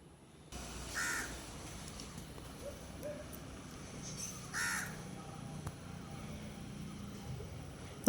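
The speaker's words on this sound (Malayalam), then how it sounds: "കാക്കകളെ അങ്ങ് പോയേ, അതുങ്ങൾ നല്ലൊന്ന് തിന്നട്ടെ." Crows caw outdoors, giving a few sharp calls spaced apart over a faint steady background hum.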